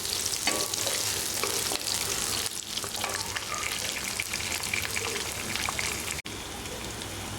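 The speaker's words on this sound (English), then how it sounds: "Just shallow fry this. On a low flame for around 2 minutes is enough." Steady crackling sizzle of food shallow frying in oil over a low flame, continuous and close, with a few faint clinks of stirring.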